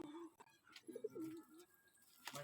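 Pigeons coo softly and close by, with a short run of low, throaty warbling notes amid faint background noise and light rustling.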